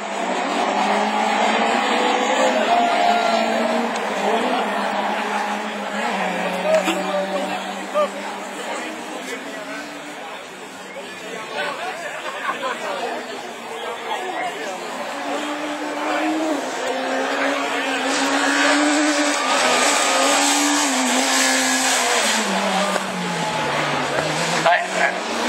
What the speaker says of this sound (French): Première course de rallycross avec la C2 du team des Landes.